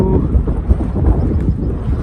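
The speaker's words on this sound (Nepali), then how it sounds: "आज त लेस्टै हावा आएको रहेछ नि त्यो ठाउँमा" Strong wind buffets the microphone during a downhill mountain bike ride in a steady low roar, with gusty rumbling throughout and no voices.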